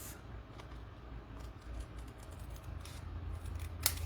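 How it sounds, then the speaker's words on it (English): Hand scissors cut paper for a scrapbook layout, soft, quiet snips repeating irregularly over a few seconds, with one sharper snip near the end. "I'm going to take my scissors and just trim this out carefully, so I can cut out that S."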